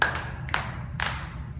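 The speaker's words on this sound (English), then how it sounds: "Trees would have clapped their hands." Hands clapping at a Christmas program performance, two or three separate sharp claps spaced across a short quiet stretch, close and fairly loud with no talk.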